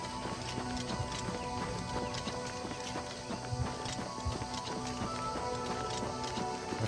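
A horse runs in Oblivion Remastered, its hooves clip-clopping in a steady rapid rhythm throughout, with a faint whinny-like tone amid the game's ambient sound and no talking.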